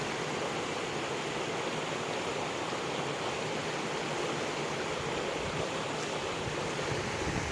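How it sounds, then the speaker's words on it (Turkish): Water flows steadily through a garden stream in a village orchard, a continuous broadband rushing that stays even and close throughout, with no voices. "Su sesi."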